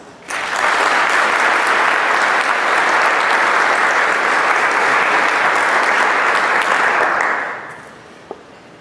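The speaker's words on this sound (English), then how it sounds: "I'd like to give each of them a round of applause." An audience at a community forum applauds sponsors with a loud, sustained burst of clapping that holds steady for about seven seconds, then fades out quickly.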